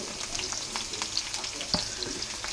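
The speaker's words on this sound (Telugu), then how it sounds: "వేసుకొని ఒక 2 మినిట్స్ ఫ్రై చేసుకుందాం ఫ్రెండ్స్." Capsicum and onion fry in a hot pan for paneer manchurian, giving a steady close sizzle with scattered crackles and a few soft spatula scrapes, no talking.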